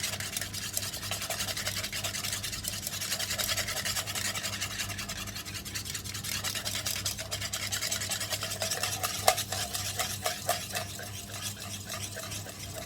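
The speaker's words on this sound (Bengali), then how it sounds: "এখন একটা হ্যান্ড উইক্স দিয়ে ডিমের সাদা অংশটা ভালোভাবে বিট করব।" Hand whisk beating egg whites into foam, a quick rhythmic scratchy ticking that speeds into sharper strokes toward the end, close and fairly quiet with no talk.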